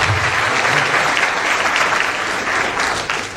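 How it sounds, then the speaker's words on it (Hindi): Loud, sustained applause from a crowd at a public rally in Mumbai, Maharashtra, thanking the event's donors, with dense, steady clapping running evenly through the clip and no talk over it. "उनके लिए जोरदार तालियां बजाकर उनका आभार।"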